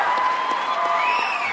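Students cheer and applaud at a university event, a short burst of clapping with whoops and shouts from a crowd, lively and sustained for under two seconds.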